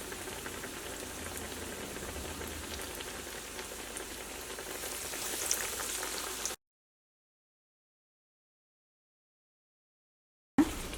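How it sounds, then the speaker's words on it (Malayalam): Egg cutlets frying in hot oil on a high flame, a steady, fine bubbling hiss that runs close and even for several seconds, then drops into silence before a brief return at the end. "നല്ല ഹൈ ഫ്ലെയിമിലിട്ടിട്ട് വേണം കട്ട്ലേറ്റ് എപ്പോഴും വറുത്തെടുക്കാൻ വേണ്ടിയിട്ട്"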